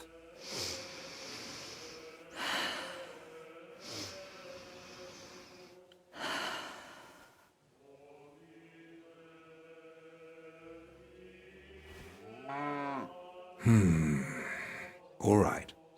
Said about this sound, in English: Your breathing is improving.